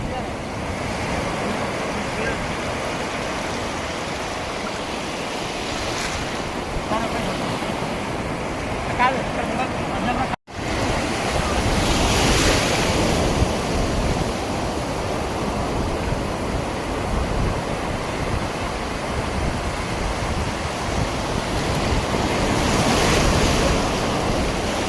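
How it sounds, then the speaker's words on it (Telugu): Big ocean waves surge and crash on the beach at Chirala in a loud continuous roar with wind buffeting the microphone, swelling louder after a brief dropout midway. "నీళ్ళు పెద్దగా వస్తున్నాయి అలలు."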